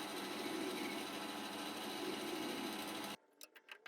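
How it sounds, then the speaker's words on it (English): A metal lathe runs with a steady, dense machining whir while cleaning up the end of a metal bar, then cuts off abruptly and leaves a few faint clicks and knocks. "Then I took it over to the lathe to clean up the end"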